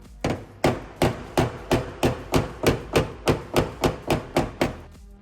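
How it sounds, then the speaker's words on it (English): Steady hammer blows on a car door's metal during dent knockdown, about fifteen sharp strikes at an even rhythm, close and clear with no talking. "doing some more knockdown with the hammer"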